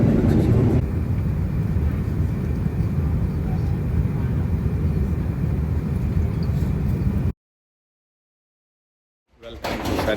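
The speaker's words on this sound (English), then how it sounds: "We are landing in San Francisco." An Emirates A380 airliner lands at San Francisco, heard as a steady, loud broadband cabin roar that cuts off abruptly to silence before a brief return of noise.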